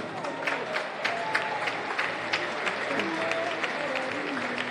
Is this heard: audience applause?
yes